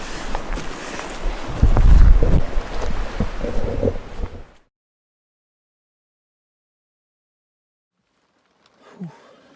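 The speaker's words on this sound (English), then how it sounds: "Well, it's pouring rain." Pouring rain at night in the woods, a dense steady roar with gusty swells for about four and a half seconds before cutting to near silence, followed by one faint brief sound near the end.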